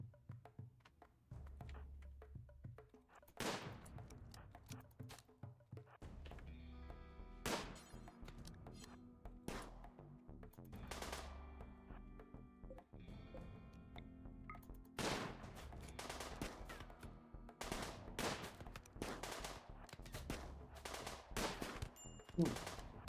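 Rifle gunfire in the Rimworld video game crackles in repeated sharp bursts and scattered single shots over a faint background, fairly quiet overall.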